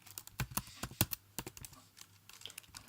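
Keys clack on a computer keyboard in quick, irregular bursts of close, crisp taps with brief pauses between runs, and no voices over them.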